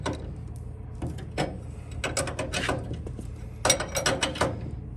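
A hand ratchet clicks in short bursts of rapid pawl clicks, close up, as it snugs a bolt on a Mustang fastback coil-over, with pauses between the bursts.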